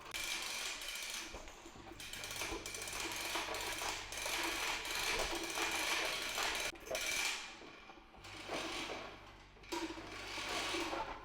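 Hose pulled from the reel of a Giraffe Tools pressure washer, a sturdy 70-pound unit, gives a steady rattling, ratcheting mechanical whir that runs nearly nonstop at close range, broken by a few brief pauses.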